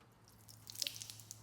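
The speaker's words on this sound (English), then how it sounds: "So I'm gonna pour water." Water poured onto a ceramic-coated car panel gives a short, faint run of light drips and splashes that bead and slide off the slick surface, heard alone at close range.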